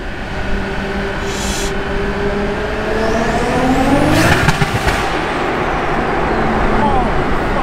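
Nissan Laurel C33 with a forged RB25DET turbo engine on a hill run, a loud, continuous engine roar with pitch sweeping up and down through downshifts as it nears a tunnel, with a voice talking over it.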